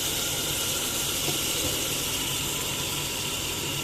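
Steady, dense sizzling of cumin and ginger tempering in hot oil, a continuous close hiss with no talking.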